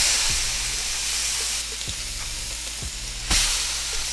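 Salmon fries in butter in a pan with a continuous, bright sizzling hiss, broken by a few low thumps and a sudden louder burst near the end, close up with no speech.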